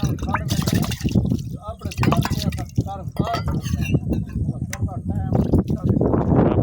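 A mug gets rinsed with running water, splashing and trickling in uneven bursts close by while someone talks over it throughout.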